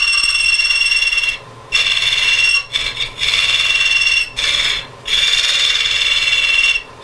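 An olive wood blank turns on a lathe as a tool slides across it, a close, loud scraping rasp over a motor hum, broken by several short pauses when the tool lifts off, with no talking.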